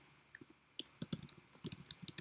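Typing on a computer keyboard, irregular bursts of soft clicking keystrokes at close range, sparse at first then quicker runs, with no voices.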